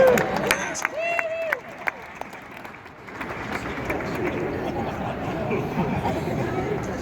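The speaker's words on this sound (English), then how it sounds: "Give him a clap" Crowd at an outdoor stadium event cheers and claps for a fan in face paint and a beard, a broad steady roar of applause and chatter building through the clip after a few sharp nearby sounds.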